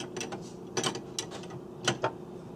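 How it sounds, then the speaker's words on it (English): Wrench tightening the cutter nut on a 4000 key machine, heard as a few close ratcheting mechanical clicks and creaks in short bursts. "tighten cutter nut securely."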